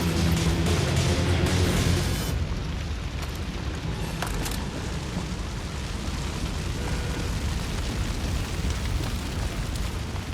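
Explosions in the video game Far Cry 5, a loud dense roaring blast at first that fades into a long sustained rumble with crackling debris and scattered pops.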